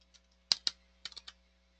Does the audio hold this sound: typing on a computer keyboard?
yes